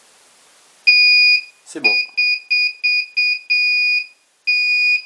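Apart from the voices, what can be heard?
drone flight controller buzzer beeping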